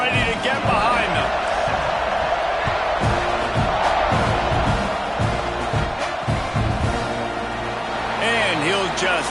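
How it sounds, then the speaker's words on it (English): Dense football stadium crowd cheering and roaring before a kickoff at a Texas A&M versus UCLA game, a steady loud wash of voices with a commentator talking over it throughout. "this crowd now ready to get behind them"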